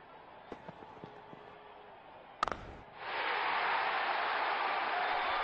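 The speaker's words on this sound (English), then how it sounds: "Crowd is going crazy." A stadium crowd in the cricket video game Real Cricket bursts into a sustained roar of cheering, following a few faint clicks and a sharp knock; the broad, loud wash holds steady to the end.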